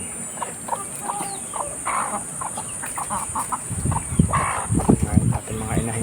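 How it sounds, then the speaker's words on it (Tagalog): Domestic ducks on a farm give soft, scattered quacks and clucking calls nearby, with a faint high steady hum over the pen and a person talking intermittently. "Ayan po yung mga ating mga itik, mga bibi."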